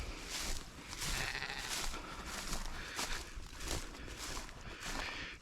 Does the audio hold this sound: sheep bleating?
yes